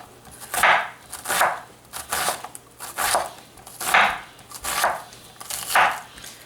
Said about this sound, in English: I just cut very thin pieces so the onion stays tiny